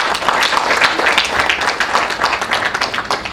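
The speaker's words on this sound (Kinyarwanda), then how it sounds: "mumpera amashyi menshi" Wedding guests clap together in a lively, continuous round of applause, many hands producing a dense rhythmic patter that holds steady at close range.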